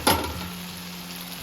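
Potatoes tossed into a hot pan at home, frying with a steady sizzle after a sharp initial splash and clatter, then settling into a continuous low crackle.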